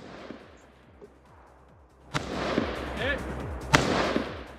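Gunshots at a shooting match, aimed at three-quarter size IPSC steel targets 100 yards away: two sharp, loud reports about a second and a half apart stand out over a quieter, rumbling outdoor background.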